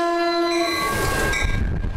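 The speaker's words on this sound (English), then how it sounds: "Traveling on the now called Celebration Train has been a Bay Area tradition for more than 30 years." The Bay Area's Celebration Train at a Martin Luther King Jr. Day event in San Francisco sounds a sustained multi-tone horn blast, which fades into the rumble of the passing railcars.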